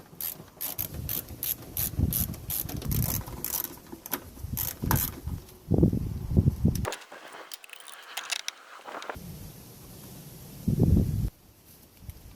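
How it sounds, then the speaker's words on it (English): Mechanical clicking and ratcheting at close range while a bolt is undone on the power steering reservoir of a Nissan 240SX being stripped down, in several busy bursts separated by a short quiet gap. "now I'm going to go ahead and unbolt the reservoir"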